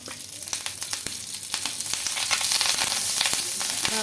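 Dried red chillies and curry leaves fry in a little oil with a bright, hissing sizzle that grows louder and fuller, punctuated by sharp crackles and pops.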